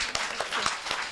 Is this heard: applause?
yes